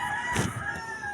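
A chicken or rooster crows once, a brief loud raspy call rising over a steady background hum, with no talking.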